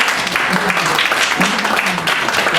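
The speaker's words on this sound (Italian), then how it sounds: "applauso" An audience bursts into applause at an Italian public event, a loud, continuous clapping wash with a voice audible underneath.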